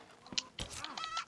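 Chickens in the Red Dead video game cluck and squawk close by in short, overlapping bursts over a faint background.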